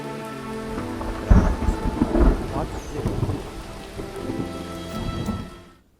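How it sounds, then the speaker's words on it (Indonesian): Sudden rain arrives with rolling thunder, a steady wash of rainfall on surfaces beneath deep rumbling booms that swell and fade over several seconds before cutting off, with no talking. "Tiba-tiba hujan loh, amin langsung."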